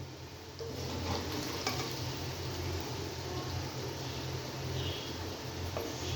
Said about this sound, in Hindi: भिंडियों को हमने अच्छे से फ्राई कर लेना है।